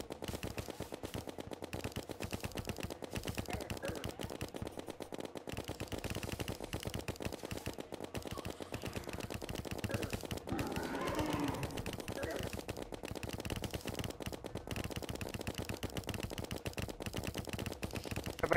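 Rapid gunfire from a weapon in the video game Terraria, a dense, fast stream of shots that continues evenly throughout under voices talking.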